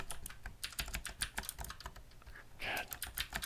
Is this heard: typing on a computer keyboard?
yes